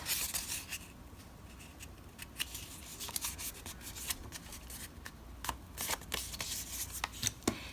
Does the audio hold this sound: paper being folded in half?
yes